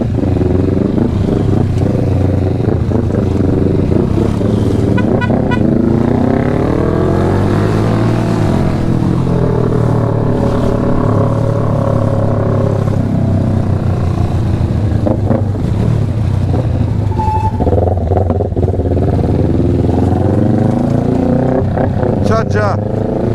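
A Kawasaki Ninja 400 motorcycle being ridden in Jamaica, its engine loud and continuous with rising and falling revs, and voices talking over the steady roar.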